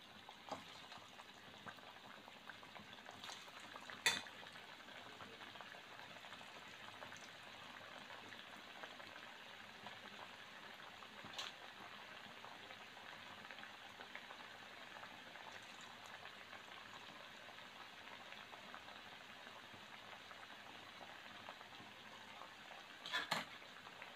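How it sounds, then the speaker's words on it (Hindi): Lauki mathri frying in medium-hot oil makes a faint, steady bubbling hiss that runs throughout, broken by a few brief clicks and taps from the utensil, with no voices. "अब मीडियम गरम में ही हम ये मठरी डाल रहे हैं।"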